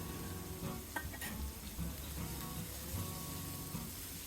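Capsicum and slit green chillies stir-frying in a pan over raised heat for egg fried rice, a steady close sizzle with a few scraping stirs and no voices.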